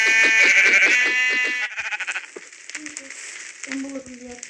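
Sheep bleat in a blocky sandbox video game, several loud, wavering cries in quick succession against faint game background sounds.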